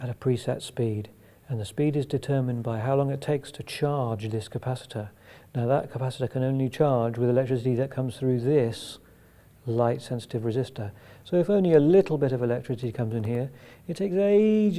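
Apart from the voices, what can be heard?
No everyday noise stands out behind the speech.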